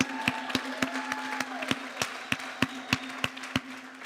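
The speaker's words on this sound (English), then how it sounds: "Can I get a hand clap for gracious giving?" A church congregation claps in a steady, even rhythm, sharp hand claps landing about three times a second over a sustained musical tone, with no talk.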